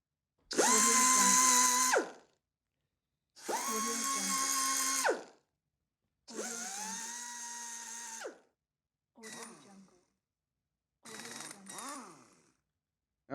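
Pneumatic drill used as a sound in a guessing game, heard as five separate whining bursts of a couple of seconds each with silence between them, the last two shorter and choppier.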